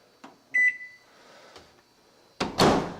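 A household microwave oven being started: a few soft clicks and a short beep, a quiet low hum, then a louder burst of clunking and whirring as it kicks in near the end.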